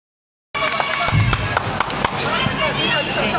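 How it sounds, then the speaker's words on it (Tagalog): Scattered, uneven hand claps ring out at the opening of a community sports event, over a lively background of people talking and cheering nearby. "Palakpak."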